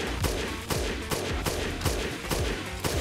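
Rapid bursts of gunfire crack through a fight in the video game Dead Rising Deluxe Remaster: loud, repeated shots at an uneven rhythm, each hitting hard with a booming low end over a dense, noisy backdrop.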